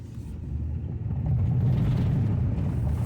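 A Dodge truck slowly manoeuvring to line up a trailer and load a Jeep, in a cold mountain setting: a quiet, low engine rumble that builds gradually and then holds steady.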